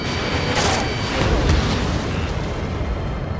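Missile explosion in the jet combat game Ace Combat 7, a loud roaring blast with a sharp burst early on and another swell around the middle, rumbling through the rest of a short stretch without talk.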